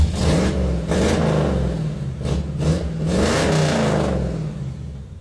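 A Ford F100 truck engine runs close and loud, idling around 600 rpm, its revs rising and falling in several swells, with no voices.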